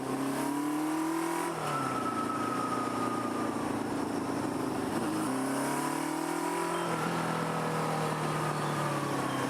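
A Kawasaki KZ650 motorcycle rides along, its engine droning loudly and steadily, with the pitch rising and falling through gear changes and throttle shifts. It stays close and continuous throughout and no one speaks.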